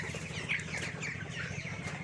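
Chickens suffering from a cold cluck steadily and fairly close, with soft overlapping calls over a constant low farmyard hum.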